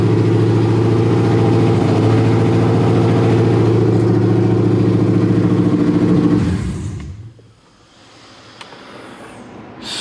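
A Ford Crown Victoria with a swapped 7.3 engine idles loud and steady at a fast, high idle with a rough mechanical drone, then shuts off abruptly and drops to near quiet with faint clicks.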